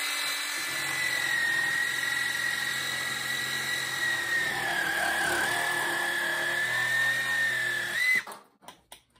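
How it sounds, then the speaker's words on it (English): Tacklife cordless reciprocating saw cutting through a 2-inch PVC pipe, a loud continuous high-pitched whine with steady motor drone for about eight seconds before stopping abruptly. "Now this is a 2-inch piece of PVC pipe."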